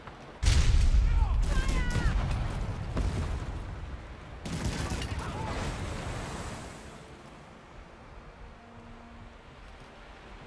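An enemy ship fires its cannons in the naval game Man O' War: Corsair. Two heavy booming volleys burst out and roll away into sea and wind noise, with voices talking over the battle.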